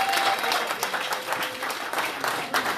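Sustained applause and clapping from a church congregation cheering the newlyweds at a wedding celebration, dense and steady throughout with some crowd noise mixed in.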